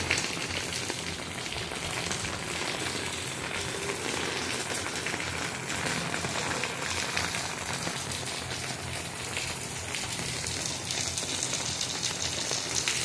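Heavy rain pours down in a village farm setting, a steady, dense broadband hiss that stays constant and loud throughout with no pauses and no voices.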